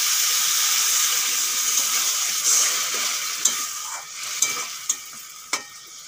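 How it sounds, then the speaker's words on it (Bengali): Ridge gourd and potato fry steadily in a pan, giving a bright continuous sizzle; green chillies and a little water go in, with a few sharp spatula clicks and a hiss of added liquid near the end. "এখন দিয়ে দেবো কাঁচা লঙ্কা আর দিয়ে দেবো সামান্য একটু জল"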